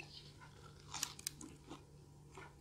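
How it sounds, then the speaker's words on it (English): Biting into a crunchy Domino's garlic cheese onion ring, a couple of brief, crisp crunches close to the mouth followed by quiet chewing. "this one is the garlic cheese onion ring."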